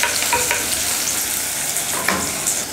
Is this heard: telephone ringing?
no